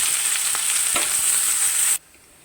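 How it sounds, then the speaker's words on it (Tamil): Onions frying in sesame oil in a kadai with curry leaves and green chillies: a steady, close, bright sizzle with faint stirring clicks that stops abruptly after about two seconds. "இப்போ அந்த வெங்காயம் வதங்கிட்டு இருக்கட்டும்"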